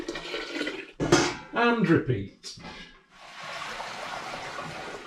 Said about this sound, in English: And then pour this into the big bucket.